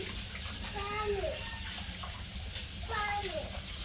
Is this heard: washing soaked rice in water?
yes